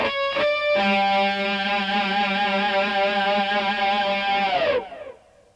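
A slow electric guitar lick from a guitar lesson: a few quick plucked notes, then one long sustained, slightly distorted note ringing with gentle vibrato before being cut off.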